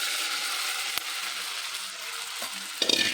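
Sabudana is stirred into hot oil with cumin, giving a steady close sizzle. Scraping stir strokes sound against the pan, with a couple of sharper knocks near the end.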